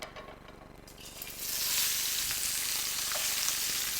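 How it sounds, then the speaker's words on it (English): Shrimp hitting hot oil in a sauté pan, a quiet start that swells into a steady, close, broadband sizzle and holds there with no talk. "we've got oil in it. I'm gonna add shrimp."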